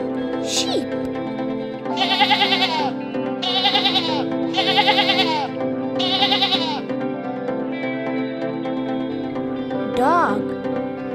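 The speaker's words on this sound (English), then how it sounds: "Sheep." Four bleats from a sheep in quick succession, clear and near, over a steady musical backdrop, with a short voice near the end.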